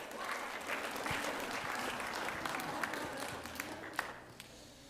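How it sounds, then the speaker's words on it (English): Audience applause welcoming a speaker at a school event for new upper school students, a steady, fairly distant patter of many hands that fades slightly near the end. "We could all give him a big round of applause"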